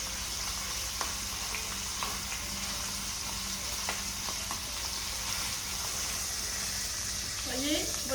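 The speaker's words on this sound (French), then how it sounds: "Là, c'est en train de marquer la viande." Beef fillet searing in a very hot pan for beef Wellington, a steady sizzle and crackle of fat with occasional small pops, heard fairly quietly and continuously throughout.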